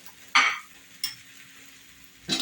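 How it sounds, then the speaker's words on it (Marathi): A spatula scrapes and stirs bitter gourd bhaji with fresh coconut, kokum and crushed peanuts in a hot pan, giving a few sharp scraping strokes over a soft, low sizzle. "आता हे छानसं परतून घ्यायचं आहे."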